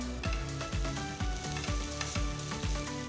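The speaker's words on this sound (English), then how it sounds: "Saute the beetroot for about 5 minutes" Beetroot sautéing with onions in a pan sizzles steadily while a spatula scrapes and stirs in regular rhythmic strokes, close and clear with no voices.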